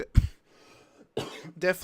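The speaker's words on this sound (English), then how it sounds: "Wrong time to have a cough." A single sharp cough near the start, then a short quiet gap before someone begins talking.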